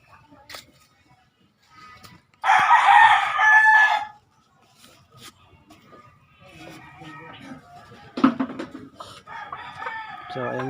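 In a backyard farm raising chickens and fighting gamecocks, a rooster crows loudly nearby for about two seconds, with scattered softer clucks, faint bird calls and quiet talk around it.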